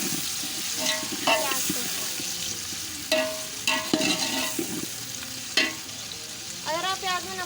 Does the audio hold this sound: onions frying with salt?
yes